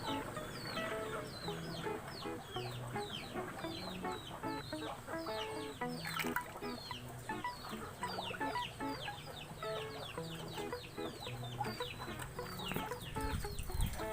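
Chickens cluck continuously on a farm, many overlapping short calls close by at a moderate level, with no talking over them.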